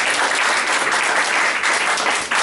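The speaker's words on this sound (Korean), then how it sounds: "박수로 하나님께 영광을" A congregation at a Sunday church service claps together, a dense, loud burst of applause lasting a couple of seconds without letup.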